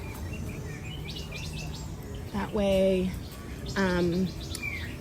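Birds chirp and call inside a netted zoo aviary on a rainy day, with two loud, close bursts of repeated tweets standing out over a steady outdoor background while a person speaks briefly.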